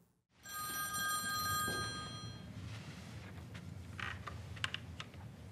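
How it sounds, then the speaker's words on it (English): A telephone rings in a room with a bright metallic bell burst lasting about two seconds, then fades into quiet with soft clicks and knocks. "Then the phone rings."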